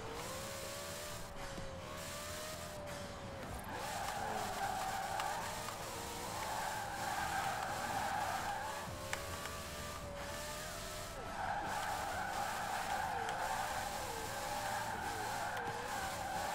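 A car in Forza Horizon 4 revs hard while drifting. Its tires squeal in long wavering skids across several slides, with steady engine drone underneath.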